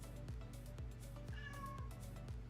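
A domestic cat meows faintly in the background of an indoor room, giving a couple of drawn-out calls over a steady, softly thumping backdrop.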